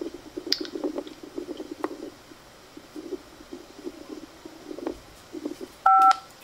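A quiz buzzer sounds in a televised-style Trivial Pursuit game, a short, loud electronic tone near the end, preceded by quiet clicks and faint room murmur.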